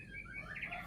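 A ciblek (bar-winged prinia) gives a quick run of thin, high chirps, close and clear over a soft background hum.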